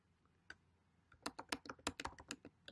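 Keystrokes on a computer keyboard as a name is typed into a UNIX terminal, a sparse tap or two and then a quick, steady run of close, crisp clicks.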